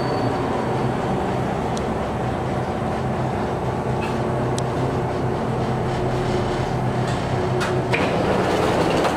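An automatic driverless Alstom train on Budapest Metro Line 4 runs underground with a steady, continuous rumble and hum of the car in motion. A few faint high clicks and squeals break through, and no one speaks.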